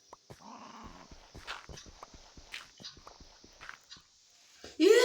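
A puppy in a video game: a run of soft footstep-like taps, then a sudden loud, close growl or bark at the very end.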